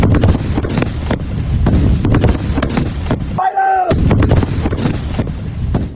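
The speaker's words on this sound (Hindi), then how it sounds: "और वहां फायरिंग की तस्वीर" Gunfire along the India-Pakistan Line of Control: loud, dense bursts of shots and heavy blasts crack in rapid succession throughout, with wind buffeting the microphone and a short tonal wail briefly breaking through midway.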